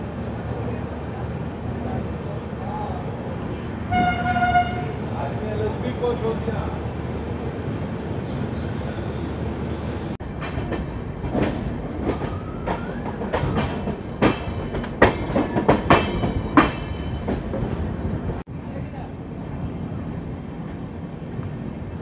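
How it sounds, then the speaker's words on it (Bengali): Swarna Rekha Express, an LHB train, pulling out of Dhanbad platform 1, wheels rolling with clickety-clack over rail joints, growing busier and louder toward the middle, with a horn-like tone early on. "একদম ব্যাং অন টাইম 5:35 ধানবাদে 1 নম্বর প্ল্যাটফর্ম থেকে ডিপার্ট করছে স্বর্ণরেখা এক্সপ্রেস"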